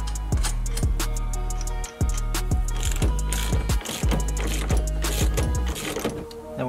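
A ratchet tightens the steering wheel nut on a Ford Sierra Cosworth, giving a close, rapid series of sharp metallic clicks in quick rhythmic runs, with short pauses between strokes.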